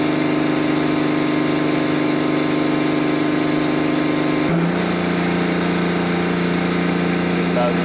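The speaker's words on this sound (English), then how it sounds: "This is how the exhaust sounds at 2500 RPM." Exhaust of a BMW F10/F11 520d/530d diesel held at 2500 RPM, a steady loud droning hum with strong low harmonics that shifts to a slightly lower, rougher tone partway through.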